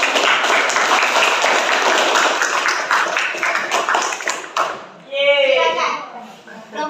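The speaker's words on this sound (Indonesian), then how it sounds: "Ya, kasih aplaus untuk kelompok 1." Applause from a group of students in a classroom, a dense clatter of many hands that fills several seconds and then breaks off, followed by a voice speaking.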